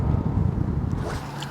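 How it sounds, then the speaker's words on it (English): Strong head-on wind buffets the microphone on a blowy night of bass fishing at the water, a loud steady low rumble with gusty roar and no speech. "I got a head-on wind"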